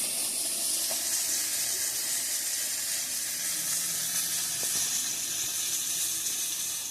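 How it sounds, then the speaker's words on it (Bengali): Lentils (dal) boil in a pot with a steady, even hiss of bubbling and steam that holds at the same level throughout, with no voices. "ডালটা এখন সিদ্ধ হচ্ছে"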